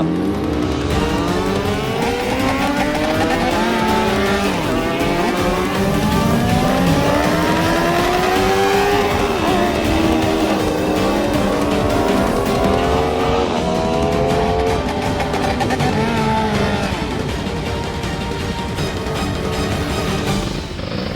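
Several motorbikes race loudly and continuously in a TV drama scene, with overlapping engine whines rising and falling in pitch as the bikes pass close by, sustained throughout without talk.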